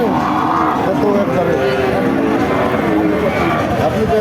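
Cattle moo and low repeatedly amid a busy crowd murmur at the Chaugachha cattle market in Bangladesh, with people bargaining nearby throughout.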